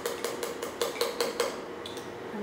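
A spoon stirs mint chutney into mayonnaise in a bowl, giving a regular run of bright metallic clinks and scrapes against the dish, close and clear, slowing and thinning out toward the end, with no voices.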